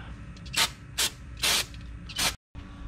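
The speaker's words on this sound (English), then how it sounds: "Clean this up with some brake cleaner" Short hissing spurts of brake cleaner sprayed onto a Ford Mustang GT engine part during a cam install, four quick close bursts with a small click in between.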